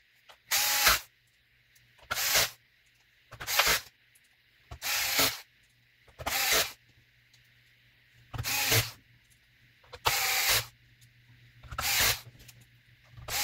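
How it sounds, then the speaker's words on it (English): A Hitachi powered screwdriver driving screws into an HP laptop during repair, whirring in about nine short, evenly spaced bursts with quiet pauses between them, close and clear with no talk. "By the way, this is a Hitachi powered screwdriver."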